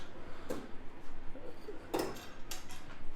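Pots, pans and serving dishes clatter in a hotel suite kitchen, two sharp clinks and knocks about a second and a half apart with faint handling rustle between, no talk.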